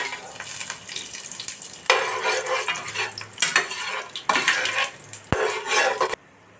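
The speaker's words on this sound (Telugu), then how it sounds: "మసాలాలు బాగా ఫ్రై అయినాయి కదండి" Biryani masala spices fry in hot oil in a pan, with a close sizzle that swells in bursts as a utensil scrapes and stirs against the metal, ending in a brief clatter before it cuts off.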